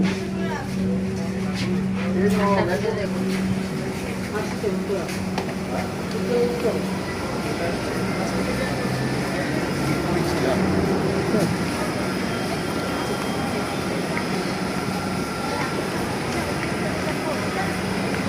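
A Dhaka Metro train runs with a steady, broad rumble and hiss throughout, heard from inside the car, with a few faint tones and voices early on.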